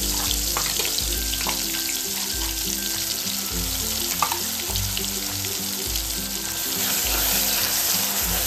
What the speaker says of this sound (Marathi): हे वाटण ना आपल्याला तेलावरती खूप छान असं परतून घ्यायचंय।